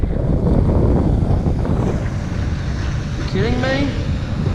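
A boat roars past on open ocean water during a flathead fishing trip in a small tinny, a loud, steady engine rush mixed with wind buffeting the microphone, while someone speaks briefly over it.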